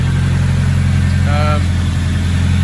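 A turbocharged car engine idles steadily and loudly up close, a deep constant drone with a brief higher whine rising partway through, as though the turbo starts but fails to spool.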